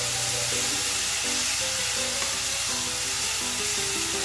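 Chicken gizzards for ajillo sizzling steadily in a hot pan, a constant close frying hiss that holds even throughout, with no talk.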